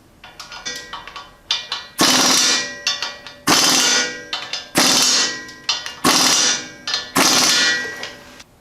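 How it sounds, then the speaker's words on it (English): Engine mounting bolts are tightened with a wrench while installing a 454 engine in a 1937 rat rod, producing repeated sharp metallic clangs with ringing decay, interspersed with quicker ratcheting clicks, close up. "I'll go ahead and start tightening them up."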